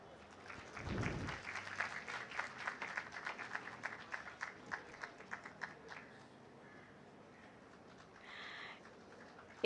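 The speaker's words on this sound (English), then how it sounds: "Thank you, sir. A round of applause." An audience at the 7th World Islamic Economics and Finance Conference applauds a speaker, a clear burst of clapping that swells and then thins out into scattered claps before fading, with a faint tone near the end.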